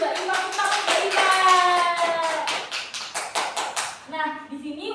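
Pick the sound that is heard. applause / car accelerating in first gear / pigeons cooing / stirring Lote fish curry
applause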